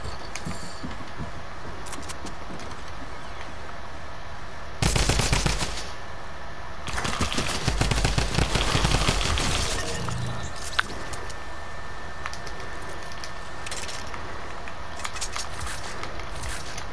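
Video game gunfire arrives in two loud bursts of rapid automatic shots, one short and one longer, over a steady low game background, with a few isolated single shots afterward and no talk.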